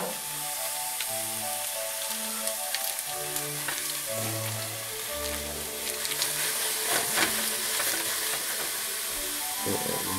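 Pork sausage frying in a pan with steady dense sizzling and crackle throughout, plus low rumbling tones and occasional stirring scrapes, no talking.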